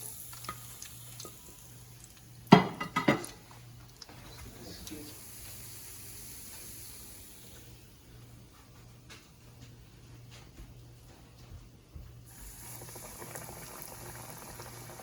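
Fish frying hard in hot oil, a steady boiling sizzle running throughout with a few sharp clattering knocks early on, fairly quiet and without talk.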